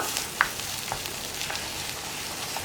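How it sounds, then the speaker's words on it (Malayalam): Egg and grated coconut frying in an oiled pan, a soft steady sizzle with a few light scrapes of a spatula stirring the mixture, close and fairly quiet, no talking. "ഇനി വീണ്ടും ഇളക്കി കുക്ക് ചെയ്തെടുക്കുക"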